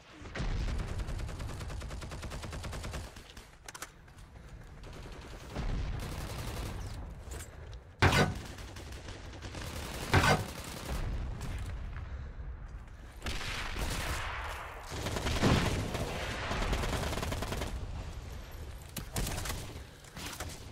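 Rapid bursts of gunfire from a first-person shooter game, with sharp loud shots standing out near 8 and 10 seconds, over a continuous rumble of game action throughout, with no talking.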